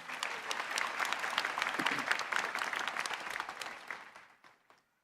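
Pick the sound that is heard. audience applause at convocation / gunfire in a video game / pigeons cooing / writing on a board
audience applause at convocation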